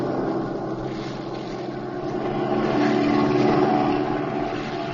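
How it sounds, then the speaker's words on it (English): A radio-drama airplane engine drones steadily in flight, a loud continuous propeller roar that swells slightly toward the end, heard alone without voices. "pilot, overtake that plane if you can"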